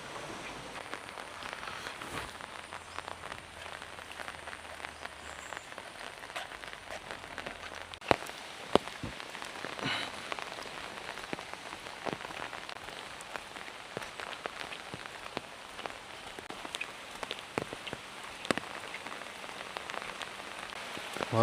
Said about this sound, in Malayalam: നല്ല മഴയാണല്ലോ